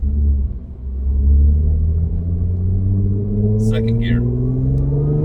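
An Audi B8.5 S4 with a Jackal tune, resonators and mufflers, rumbles and revs steadily upward in second gear, its engine and exhaust drone rising in pitch while close and loud.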